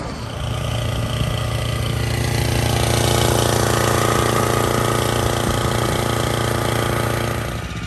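Exmark Commercial 30 walk-behind lawn mower laboring through thick, lush grass, its engine droning loudly and steadily throughout with a rough, busy mechanical texture and no speech.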